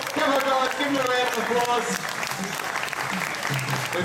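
An audience at Dreamworld bursts into loud, sustained applause and cheering after a tiger jump, a dense wash of clapping close by, with a voice speaking over the crowd.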